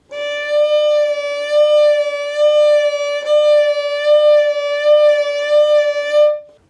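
A bowed violin tone held for several seconds, its vibrato swinging from below the pitch to above it in a steady wavering pulse, played solo with a clean stop at the end.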